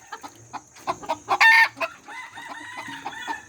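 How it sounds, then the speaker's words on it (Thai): A long-tailed rooster clucks a few times, then gives a loud, close crow that trails into shorter tonal calls, with no talk over it. "นี่จะเป็นไก่"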